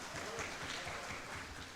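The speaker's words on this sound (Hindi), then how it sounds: "बहुत ताली बजाइए आप" Audience applause fills a ghazal and poetry recitation gathering, steady dense clapping throughout, moderately loud and continuous with no pauses.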